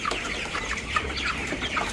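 Broiler chickens on a poultry farm cluck in dense overlapping chatter, steady and moderately close, without anyone speaking.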